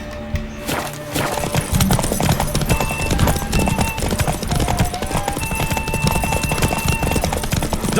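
Horse galloping in a race in The Witcher 3: Wild Hunt, rapid loud hoofbeats pounding in a steady drumming rhythm over several seconds, with thin game music tones and a brief whinny-like cry near the start.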